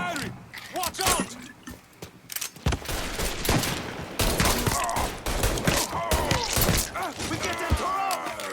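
Rapid gunfire bursts and single shots in the video game Mafia III, with loud overlapping volleys, impacts and breaking sounds running throughout, mixed with shouted voices.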